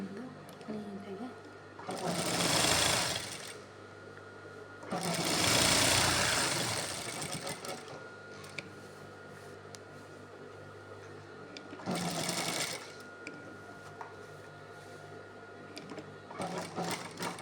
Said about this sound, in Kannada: ಸ್ಟಾರ್ಟಿಂಗ್ ಒಂದು ಹೊಲಿಗೆ ಹಾಕೊಳ್ತೀನಿ, ಬಟ್ಟೆ ಜಾಸ್ತಿ ಇಲ್ಲ ಅದಕ್ಕೋಸ್ಕರ